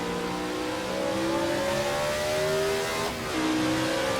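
A Brabham race car in a 1967 South African Grand Prix racing video game accelerates hard, its engine droning steadily and climbing in pitch, with a brief dip for a gear change before rising again.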